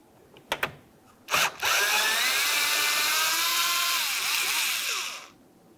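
A power drill backs out a small T20 Torx screw from a Ford Fusion front door, whirring steadily for about four seconds after a couple of short clicks and a brief trigger pull, close and loud.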